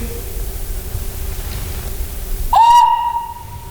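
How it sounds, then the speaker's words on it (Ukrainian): After a stretch of quiet background hiss, a single clear, shrill whistle tone from a traditional clay toy whistle starts and holds steady for about a second, close and loud. "Це свистки в основному, це іграшка свистунець."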